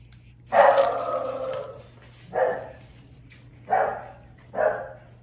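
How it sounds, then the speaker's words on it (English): Several sharp dog barks close by: one long burst of barking, then three separate single barks spaced about a second apart, over a faint steady hum. "Sorry about my dogs barking."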